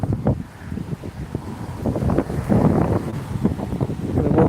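Wind buffeting a microphone outdoors on a walk, heavy low rumbling gusts that swell and fall throughout, loud and close with no talk.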